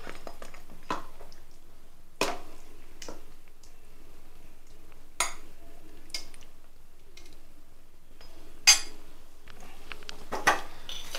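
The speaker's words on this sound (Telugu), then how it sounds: "చికెన్ ముక్కలు వేస్తాను." Spoon scraping and clinking against a plate as chicken curry pieces are served, heard as sparse separate metallic taps and clinks spaced a second or two apart in a quiet room.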